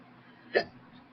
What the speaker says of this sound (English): Sorry, I got the hiccups.